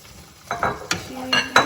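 Close, quick strokes of a spoon scraping and stirring a ground paste mixed with sweet tender-coconut flesh in a pan, four or five short scrapes in an uneven rhythm with a faint sizzle underneath and no talking.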